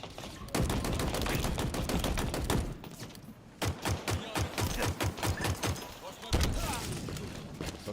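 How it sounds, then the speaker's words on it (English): In Halo Infinite, bursts of rapid automatic gunfire rattle in dense volleys, pause briefly, then resume with heavy thumps and a grenade blast near the end. "So I'm not surprised by that grenade"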